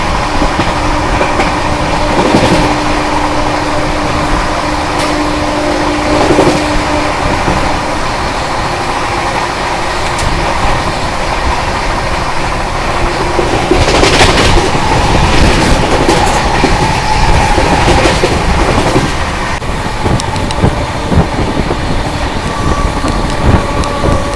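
The 12190 Mahakaushal Express races flat out at about 130 through Rundi railway station, a loud, continuous rumble of wheels with repeated clickety-clack over rail joints and occasional screeching, recorded from on board.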